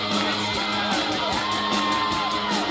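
A large wrestling crowd cheers, a steady roar of yells and whoops holding loud and continuous from start to finish.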